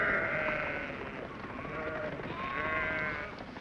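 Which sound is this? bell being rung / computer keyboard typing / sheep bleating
sheep bleating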